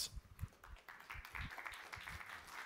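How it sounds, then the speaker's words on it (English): Faint applause from an audience at a startup demo semifinals stage, a short patter of scattered clapping that stays soft and distant throughout. "A round of applause."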